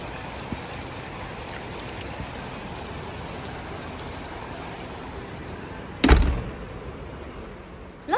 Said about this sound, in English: The rain, it's literally just started raining.